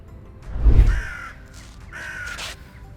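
Crows caw outdoors, two harsh drawn-out calls nearby, the first following a low thump, with no talk.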